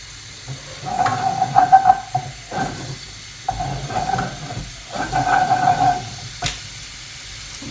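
Two tablespoons of butter melting and sizzling in a pan as the start of a roux, an intermittent soft hiss in bursts, with a sharp click near the end.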